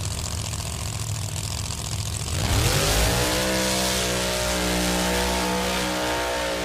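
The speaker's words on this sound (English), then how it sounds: "The smokiest burnout we have seen all session so far." A Pro Modified drag race car does a burnout at a national drag racing event. A loud idling rumble suddenly revs up into a sustained, high, roaring engine note that stays close and steady, with no voices.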